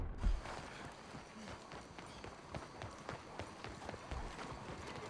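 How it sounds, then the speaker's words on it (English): Faint rhythmic hoofbeats from a horse in Red Dead Redemption 2 trot closer, a quiet clip-clop pattern running throughout with soft thuds and a little background noise. "Finally, I am in range to call my horse."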